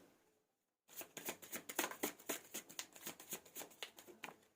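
Tarot cards are handled and shuffled after a brief silence, a quick run of soft, close flicking snaps in a steady rhythm, with no voices.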